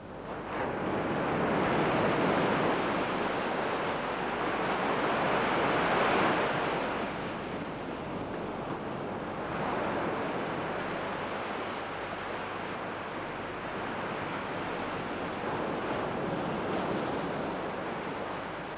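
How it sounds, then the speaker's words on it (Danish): Surf breaking on a shore, a steady broad roar of waves and rushing water that swells and eases slowly, loud and continuous with some wind buffeting the microphone and no voices. "Det lyder som en brænding."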